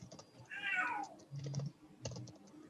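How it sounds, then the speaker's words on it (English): A house cat meows once in a rising-and-falling call, close and fairly loud, amid light computer keyboard typing and clicking in a quiet room. "Tell your cat to be quiet, please."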